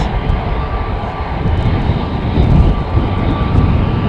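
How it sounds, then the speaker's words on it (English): Airliner taking off at Amsterdam Schiphol Airport, a steady loud roar of jet engines that swells slightly as the aircraft powers down the runway, heard alone without voices. "At the threshold, the next plane is ready to take off."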